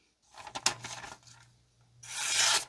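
Slicing with the factory edge of a Civivi Tactičorix large folding knife with a hollow-ground blade: short rasping strokes near the mic, then a louder sustained scrape at the end, with no talking.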